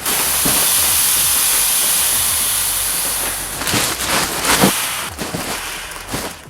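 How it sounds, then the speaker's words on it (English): Air rushes out of a jumbo TAILI Cube vacuum space saver bag as it is folded and pressed, a loud continuous hiss that fades and breaks into rustling, crinkling bursts of plastic. "you basically want to keep folding the product and then push all the air out until it's fully compressed"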